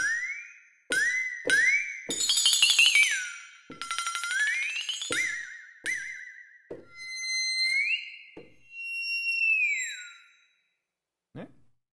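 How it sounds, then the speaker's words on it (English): A sampled flexitone, a comedic percussion instrument, plays a series of wobbling, bending tones that swoop up and down between sharp clicks. The passage runs for several seconds, then falls silent before ending with a single short tap. "this is a flexitone."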